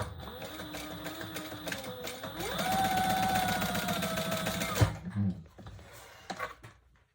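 Sewing machine stitching a card-slot section of a purse, a fast rhythmic whirring run of needle strokes lasting a couple of seconds, then handling sounds and quiet.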